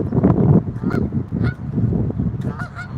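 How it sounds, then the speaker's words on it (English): Geese honk repeatedly in a noisy cluster, several loud, close calls overlapping in an irregular rhythm. "Now today we're looking at geese. The geese, a gaggle."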